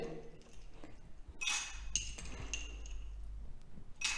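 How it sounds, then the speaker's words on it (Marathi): A few bright clinks of ice knocking into a glass, with brief pauses between, close and fairly quiet over a low background hum. "सगळ्यात प्रथम आपण एका ग्लासमध्ये बर्फाचे तुकडे घालायचे"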